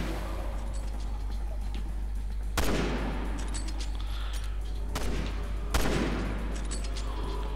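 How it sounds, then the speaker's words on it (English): Gunshots in Resident Evil 6: two sharp, loud cracks a few seconds apart, each with a short ringing tail, over a low steady game hum. "Shot him in the arse."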